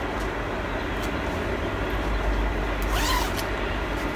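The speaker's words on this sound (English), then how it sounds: "Sorry for the train sounds." A train rumbles past at a distance in a steady, continuous roar with low rolling noise and a brief faint squeal, heard alone without talk.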